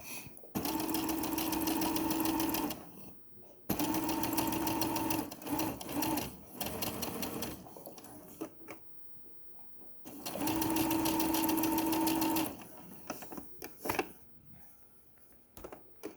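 Sewing machine stitching a seam on a tote bag, three bursts of fast steady whirring and needle clatter separated by pauses with fabric handling and small clicks, close and clear.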